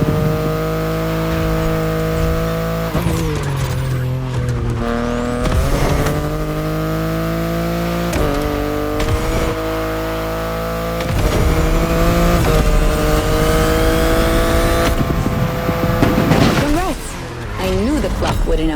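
BMW in The Crew Motorfest racing game: a loud, continuous engine drone that keeps rising and dropping with gear shifts, with bursts of revving and tire squeal running throughout.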